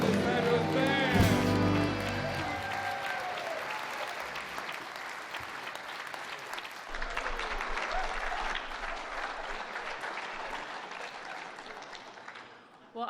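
Applause from the audience at the West Virginia Music Hall of Fame 2025 induction ceremony, following a band's performance; sustained clapping under crowd noise, with music fading at the start, for about thirteen seconds.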